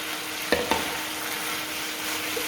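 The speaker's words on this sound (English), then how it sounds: "Give it all a good stir around." Noodles and tofu for a hoisin tofu dish sizzle steadily in a hot pan, with a couple of sharp clatters of a utensil stirring near the start over the constant frying hiss.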